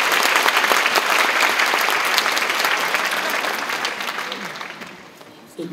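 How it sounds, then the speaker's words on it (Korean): An audience at a family poetry-and-music concert bursts into loud, dense applause after a poem recitation, a continuous wash of clapping that gradually fades toward the end. "장세용 시장님께 다시 한 번 더 뜨거운 박수 부탁드립니다"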